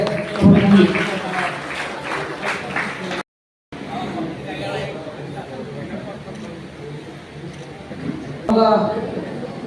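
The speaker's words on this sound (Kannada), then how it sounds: "ಮತ್ತೊಮ್ಮೆ ಪ್ರೀತಿಪೂರ್ವವಾಗಿ ಜಲಾಲ ಚಪ್ಪಾಳೆ" A crowd claps in a burst of applause mixed with loud talk and chatter, briefly cut off before the clapping and noise resume, at a stage programme for the Devara Dasimayya Jayanti celebration.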